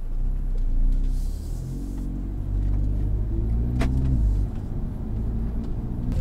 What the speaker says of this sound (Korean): 우선 시동을 켜고 한번 가보겠습니다.